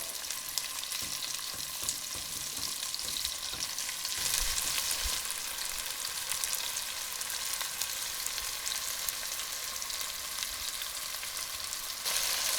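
Beef tenderloin pieces sizzle steadily as they brown in a hot pan, with intermittent scraping and stirring sounds over a constant frying hiss.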